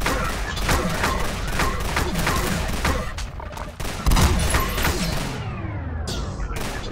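Rifle fire in the Plazma Burst 2 game keeps up a rapid run of loud, repeated gunshots with crashing impacts, dense and continuous for several seconds before easing slightly at the end.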